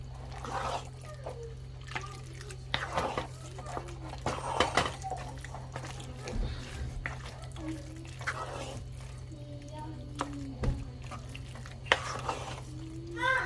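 Cheese sauce mixture for a macaroni pie with creamy salmon being stirred by hand, a soft, wet, squelching churn that runs steadily and quietly under a person talking throughout.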